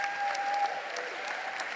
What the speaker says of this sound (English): A warm applause for all my panelists